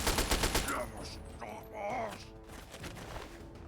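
Rapid bursts of gunfire from a gun in Fallout 3, several quick loud shots at the start and more scattered later, mixed with game sounds and a voice talking over it.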